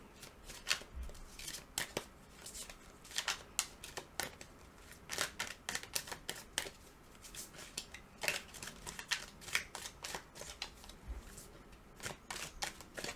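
Tarot cards shuffled and drawn in a quiet room, giving a steady run of crisp riffling snaps and slides, with sharper card slaps every second or so and no voices.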